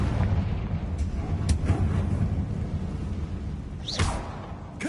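A Confringo fire spell explodes in the game Hogwarts Legacy, down in a decaying catacomb: a sustained, loud rumbling blast with a sharp whoosh near the end.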